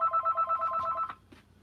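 A telephone rings with a rapid warbling electronic trill, several quick pulses in a row, then stops abruptly, followed by faint clicks and background noise.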